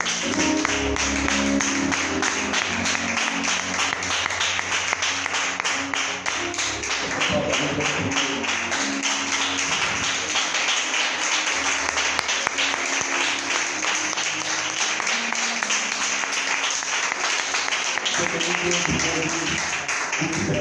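Loud, sustained applause from a church congregation at a deliverance conference, dense clapping filling the room steadily from start to finish, with some voices mixed into the crowd noise.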